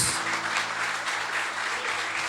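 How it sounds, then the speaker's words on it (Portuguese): Church congregation at a ninth-anniversary celebration service gives a strong, continuous round of applause, many hands clapping together in a reverberant hall, steady throughout with faint sustained tones beneath. "Te damos um forte aplauso em nome de Jesus"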